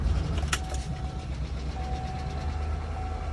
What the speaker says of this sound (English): it runs about like you'd expect a hybrid to. It sounds kind of funny